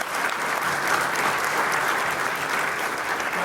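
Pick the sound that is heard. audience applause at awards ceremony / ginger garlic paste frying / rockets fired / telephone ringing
audience applause at awards ceremony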